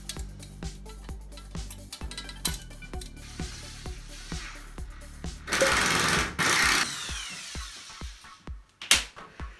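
A screw is driven into wood with a power driver, loud rhythmic ratcheting bursts repeating close by, then a harsher grinding surge as it binds against a knot in the timber and snaps, ending in a few sharp knocks.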